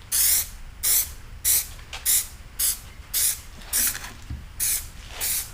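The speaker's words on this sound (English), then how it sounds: "what you want to do is you want to spray this" Repeated short bursts of aerosol spray hissing, about nine even sprays with brief gaps between, close and loud, no talking.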